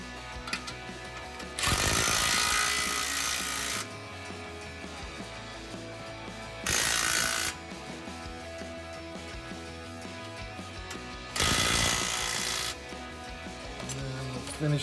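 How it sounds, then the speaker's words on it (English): A ratchet with a deep well socket tightens exhaust clamps on a Challenger's catted mid-pipe, three bursts of rapid clicking, each lasting a couple of seconds, close and loud over low background noise. "Finish tightening up these clamps back here with the deep well."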